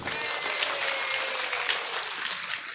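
An audience at an Islamic religious lecture claps steadily, a dense, continuous round of applause at even loudness throughout.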